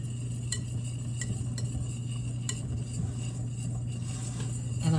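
A utensil stirs flour, cornmeal, baking powder and a homemade seasoning mix in a bowl, making soft scraping ticks at an irregular pace over a steady low hum.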